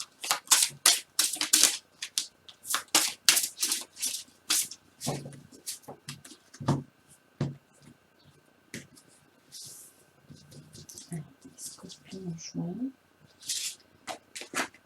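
Oracle cards for angel love readings are shuffled in sharp, quick riffling bursts, repeated many times at close range, with a soft voice speaking between the shuffles.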